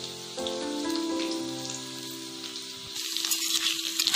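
Ginger paste dropped into oil with frying potatoes gives a crackling sizzle, faint under sustained musical tones at first, then louder and sharper in the final second.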